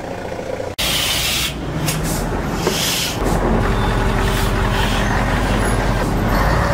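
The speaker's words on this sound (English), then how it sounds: "Bus." A large bus idles and rolls with a deep steady engine rumble, broken by hissing bursts from its air brakes, loud and close throughout.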